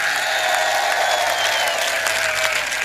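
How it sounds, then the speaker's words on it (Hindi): An audience at a Hindi poetry recital claps loudly and steadily, a dense, continuous wave of applause from a large crowd. "एक बार जोरदार ताली करौली प्रशासन के लिए।"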